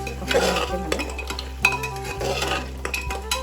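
Goat leg pieces stewing in a pot as they are stirred, with repeated scraping and clinking of a utensil against the metal over a low hum, close and without talk.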